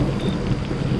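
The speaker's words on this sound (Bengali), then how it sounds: "বজ্রপাত হলো, প্রচন্ড বজ্রপাত।" A loud, deep rumble of thunder rolls through a storm, with rain hissing underneath. The burst is short and heavy, and no one talks.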